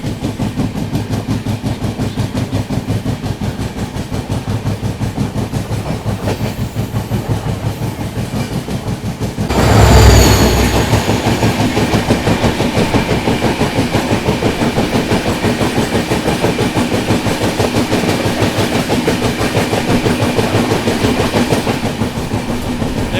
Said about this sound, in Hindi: कोई पैसेंजर ट्रेन अभी बगल से क्रॉस हुई आईसीएफ कोचेस के साथ।